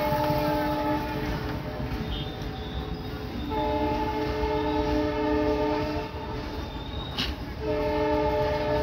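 A train rolls by with a sustained, steady horn blast that sounds in long stretches over the continuous rumble of the cars.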